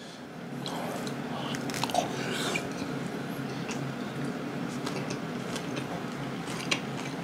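Bite into a rice ball topped with spicy canned tuna during a Korean eating session, with soft crunchy chewing and squishing sounds that run steadily at close range, without speech.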